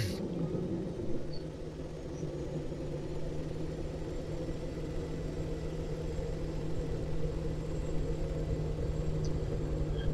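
A helicopter engine in ArmA 3 spools up as a steady, low rumbling drone with a constant tonal hum, holding moderately loud and unchanging throughout with no voices.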